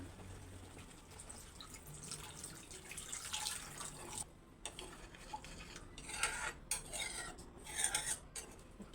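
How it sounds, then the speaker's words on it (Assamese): Water is poured into a pan of jackfruit kofta curry seasoned with cumin and coriander, giving soft splashing and rasping bursts that come and go, fairly quiet and close, with no talking. "ইয়াতে মই দিম এতিয়া পানী"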